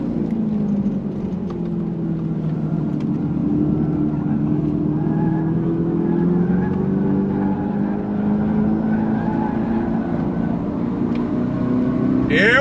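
A 2025 Dodge Charger Daytona Scat Pack accelerates at full throttle, a loud, close, steady drone rising slowly in pitch over several seconds, heard from inside the car.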